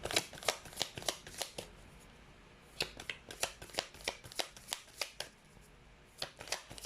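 A deck of tarot cards being shuffled close up, with repeated crisp riffling bursts arriving in quick irregular clusters and short pauses between them, and no voice.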